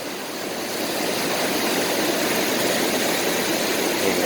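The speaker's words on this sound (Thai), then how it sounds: "ฟังเสียงน้ำไหลเนี่ย เพลิดเพลินเลยฮะนะ น้ำแรงน้ำแรง" A loud, continuous rush of fast-flowing canal water under a bridge, steady and unbroken, with no voices.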